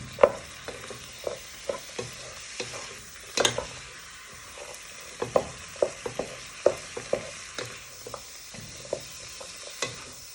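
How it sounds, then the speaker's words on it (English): Onions frying and being tossed in a pan for a lamb pie, a steady sizzle with repeated scraping stirs and light clacks of a utensil against the pan, close and moderately loud. "So just give them a little toss, and don't forget to get all the way around the sides."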